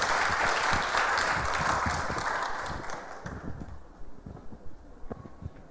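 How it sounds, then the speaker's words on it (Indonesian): Audience applause at a church gathering swells into a dense, loud wash of clapping, then thins and fades over the last couple of seconds into scattered claps. "Boleh berikan tepuk tangan."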